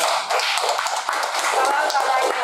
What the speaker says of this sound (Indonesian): tepuk tangan dari Mama Evi.